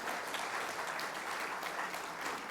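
Congregation clapping steadily at a church service, a dense, even wash of many hands held at constant volume throughout, with no voices standing out.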